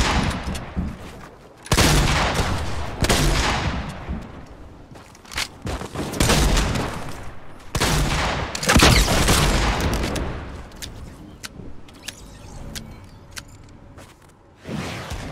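Sniper rifle gunfire in the Xbox One battle royale game Fortnite: a series of loud, sharp gunshots and bursts of in-game combat noise, coming in several dense clusters across the stretch with no talking.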